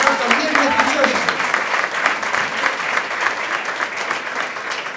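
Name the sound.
church congregation applauding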